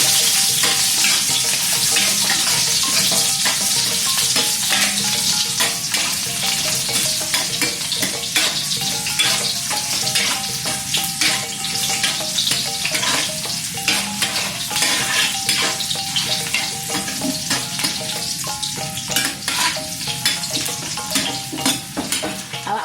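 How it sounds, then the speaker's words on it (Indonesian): Ginger and garlic sautéing in hot oil for Padang soto: a loud, continuous sizzle with frequent scraping stirs of a utensil against the pan, no voices. "Awak masukkan sapode, jahe, bawang putih, wak tumis yang lah wak memarkan tadi."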